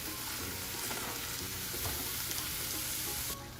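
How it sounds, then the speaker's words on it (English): Minced keema fries in onions in a pan over a medium flame, giving a loud, continuous sizzle with a few stirring scrapes. The sizzle runs steadily and drops suddenly near the end, with no voices. "I'm gonna fry it in the onions for 10 minutes on medium flame"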